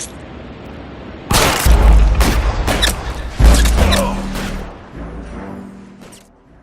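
Rapid bursts of gunfire and booming shots in the L.A. Noire video game, loud and close, several cracks in quick succession followed by a lingering rumble that fades away.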